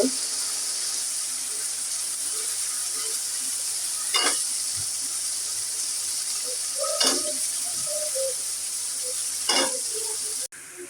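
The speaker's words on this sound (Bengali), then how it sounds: "মশলাটা এখন কষাই নিতেছি বন্ধুরা" Spice masala with salt, green chillies, onion and vegetables sautéing in a pan, a steady hiss of frying with a few sharp scrapes or clanks at intervals.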